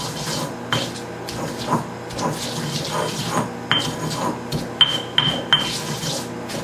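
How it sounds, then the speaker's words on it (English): Garlic being crushed with salt into a paste for chimichurri sauce, a gritty rubbing and scraping with irregular rasping strokes and a few sharp clinks, close and alone. "the salt is acting like an abrasive, like a piece of sandpaper, and that's helping it break up"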